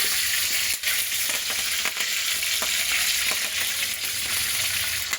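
Curry leaves, cinnamon and cloves frying in hot oil for chicken fry make a constant close sizzle and crackle. Soft stirring knocks come through now and then, and no one speaks.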